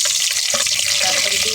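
Cumin seeds hitting hot oil in a home kitchen while a chicken masala gets started: a loud, steady, close sizzle with a faint clatter partway through and no voices.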